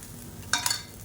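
A utensil scrapes a pan twice in quick succession as cooked basmati rice is mixed into fried egg for egg fried rice, brief and moderately loud over a faint steady background.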